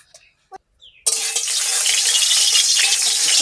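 Oil bursts into a loud, steady sizzle in a hot pan after a moment of near silence, continuing evenly to the end.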